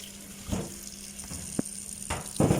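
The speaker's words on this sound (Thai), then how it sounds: "เดี๋ยวเทลงซิงน้ำเลย แล้วก็ ล้างน้ำไหลผ่านออกให้สะอาด" Limes being rinsed under running tap water in a sink: a low, steady trickle broken by a few soft splashing bursts, quiet and close, with no voices.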